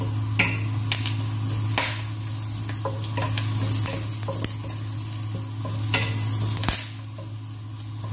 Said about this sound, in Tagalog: At ngayon guys ay ilalagay natin yung isang chili, green chili